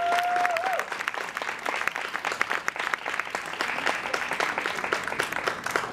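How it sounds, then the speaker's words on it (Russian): Audience applause for tango couples at an Argentine tango festival in Russia, steady dense clapping that fills the whole stretch at even strength after a brief announcer's tone at the start. "Я прошу пары сделать круг по сцене под аплодисменты зрителей."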